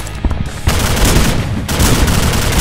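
Dense bursts of gunfire from a gun in the Slendytubbies horror shooter game, rapid overlapping shots that swell louder after the first half second and keep pounding continuously to the end.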